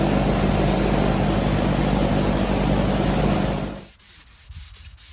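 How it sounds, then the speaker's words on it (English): Continuous abrasive sanding of flex-additive primer on a 1970s urethane car bumper hisses loudly and close for several seconds, then stops abruptly, leaving a few faint rhythmic rubbing strokes. "So this is my initial sanding after the flex additive added with the primer"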